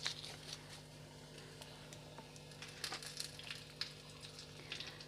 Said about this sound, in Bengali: দিয়ে দিচ্ছি একটু আস্ত জিরে, দিয়ে দিচ্ছি একটা তেজপাতা